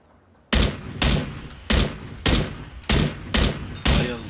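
Seven sharp gunshots fire at a steady, roughly half-second rhythm in PlayerUnknown's Battlegrounds, loud and close, each with a short decaying tail, with no talk over them.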